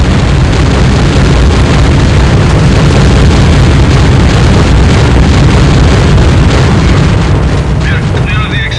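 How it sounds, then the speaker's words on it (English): Bombs explode in the video game Counter-Strike: Condition Zero, a loud, continuous, rumbling roar that fills the whole span with dense low booming and no pauses. "Explosion, comrade."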